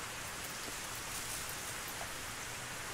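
Steady rain falls in Rune Factory Frontier, a dense, even hiss of drops on surfaces that runs unbroken and moderately loud.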